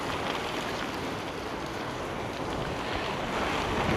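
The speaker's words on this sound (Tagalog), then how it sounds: "Sobrang lakas ng hangin, grabe." Strong wind roars steadily into the microphone on a road trip to Baguio City, a loud, continuous rushing buffet with no voices.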